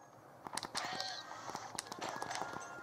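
Harsh honking squawks of cartoon birds in the platform game Rayman Origins, several quick calls close together over busy game sounds.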